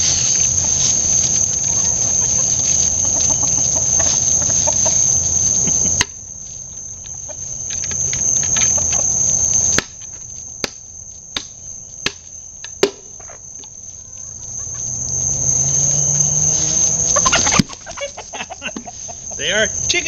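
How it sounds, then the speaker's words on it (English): Chickens cluck now and then amid a steady shrill chorus of crickets or insects outdoors near a bin of feeding larvae, with soft rustling and scattered clicks throughout. "And the chickens actually like them."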